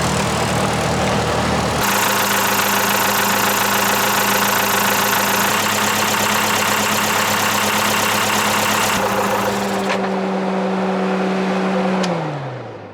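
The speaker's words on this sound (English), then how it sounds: "So now we're under load at quite a high RPM actually for the engine." A sailboat's inboard engine runs hard under load at high RPM, a loud steady drone with strong harmonic hum that holds for about ten seconds before the revs drop and wind down near the end.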